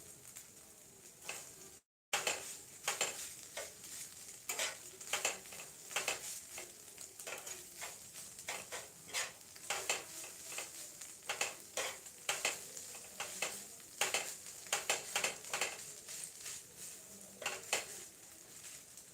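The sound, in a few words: frying and stirring crispy egg bhujia in a pan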